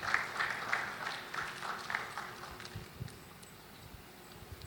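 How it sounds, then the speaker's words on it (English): Applause from a workshop audience for section officers, a dense patter of many hands clapping at moderate distance, steady at first and gradually thinning toward the end. "Let's give them a round of applause."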